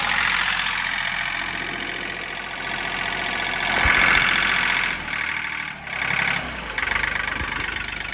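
A John Deere tractor engine runs steadily at close range with a low diesel rumble and mechanical knock, briefly rising and dipping in level, with no talk over it.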